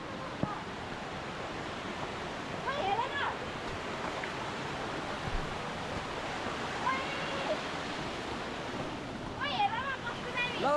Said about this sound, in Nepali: ल गाइस हामी खोला हेर्न जाँदैछौँ